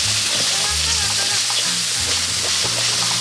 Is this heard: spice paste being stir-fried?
yes